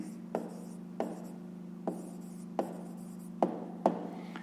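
Pen writing out a math answer on paper, a quiet scratching with six distinct stroke taps spaced irregularly over a steady low hum.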